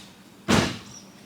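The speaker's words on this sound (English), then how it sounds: "Guess I need to shut this door too." A single solid thud as a Jeep Grand Cherokee WJ door is shut, short and close with a brief ringing tail in an otherwise quiet shop.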